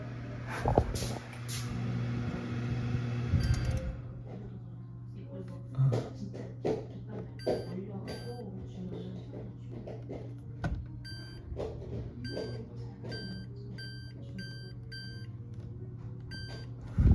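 A Bosch microwave oven, just repaired with a new door switch and fuse, hums steadily with a low drone, punctuated by a few clicks and a repeating series of short electronic beeps.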